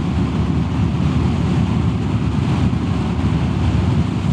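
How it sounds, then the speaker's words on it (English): Strong headwind roars and buffets continuously against the microphone of a Royal Enfield Classic 350 riding uphill, a loud steady rumble with no speech. "And strong wind from the front."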